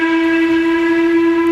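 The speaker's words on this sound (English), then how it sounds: "Suddenly, the engines heard an unfamiliar whistle." A steam engine's whistle sounds as one loud, sustained, steady tone, clear and close, with nothing else around it.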